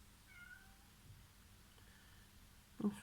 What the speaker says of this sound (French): si vous entendez miauler, c'est rien